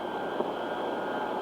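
A Boeing 707 jet airliner on a test flight, gear down on approach, gives a steady, unbroken engine roar and rushing airflow, loud and even throughout.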